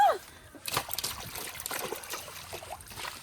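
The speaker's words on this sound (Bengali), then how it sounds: "এখানে রাখলাম, জল দিলাম একটু" Water splashes and trickles over freshly caught fish at a village canal, a short close pour with sloshing bursts while someone talks nearby.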